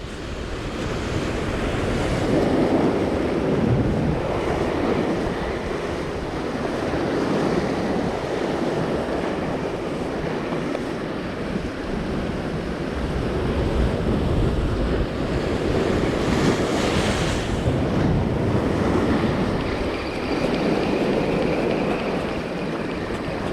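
Ocean waves surge and break against a rocky shoreline in a continuous loud wash, with steady wind buffeting the microphone throughout.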